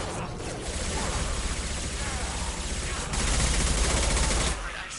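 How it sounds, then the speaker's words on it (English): An impact shot fired in a video game comes through as a dense, sustained roar of blast-like gunfire noise that swells louder for about a second and a half midway before easing off. "Firing an impact shot!"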